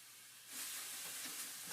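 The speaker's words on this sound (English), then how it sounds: "I want to hear that sizzle." Faint hiss that swells after a moment into a steady, soft sizzle of homemade tomato sauce frying in olive oil, close by with no voices.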